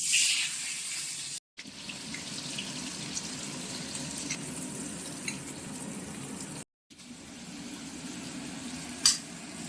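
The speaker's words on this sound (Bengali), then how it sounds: "আলু ভেজে নেওয়ার পরে পেঁয়াজ ভেজে নেওয়া হচ্ছে" Onions fry in oil in a pan after potatoes have been fried, giving a steady, close sizzling hiss that runs continuously, broken twice by brief cuts, with a small clink near the end.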